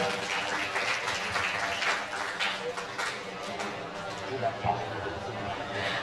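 Audience applause for Abah Ipang at a school tablig akbar gathering at SMAN 1 Banjaran, a dense steady crowd wash with murmured chatter mixed in throughout.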